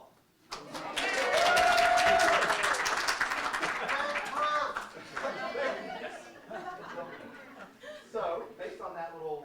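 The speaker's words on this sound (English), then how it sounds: "I had to beg for applause" An audience at a university marketing symposium claps and cheers loudly for several seconds, then the applause thins and fades as voices carry on over it.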